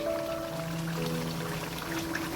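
Yogurt is poured into a pot of chicken curry cooking in oil, giving a soft continuous wet pouring sound up close over a faint background hum, with no talking.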